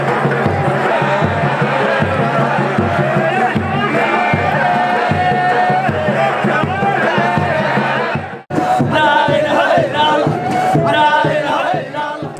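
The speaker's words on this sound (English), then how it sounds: "Around the edge of the circle, other adherents clap and join in the chanting, creating magic and almost hypnotic atmosphere." Sufi dervish devotees in Sudan chant loudly in a circle to steady rhythmic hand clapping, a dense, hypnotic group sound with a brief break before resuming at full volume.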